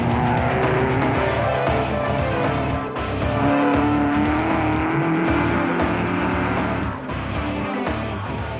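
A Castrol Toyota rally car races during the Toyota 1000 in 2004, with a loud continuous engine roar, shifting revs and tyre noise, heard up close and steady throughout.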